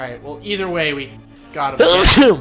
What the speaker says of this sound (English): That's another time you sneezed in this episode.